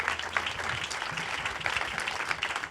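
Studio audience applause at a live interview event, steady broadband clapping sustained throughout at moderate level with no pauses.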